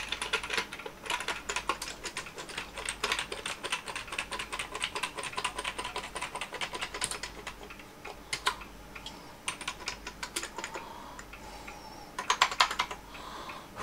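Someone types steadily on a Commodore C128 keyboard, producing dense, rapid clicking keystrokes with brief pauses and a faster burst near the end, close-up and fairly quiet, with no talk.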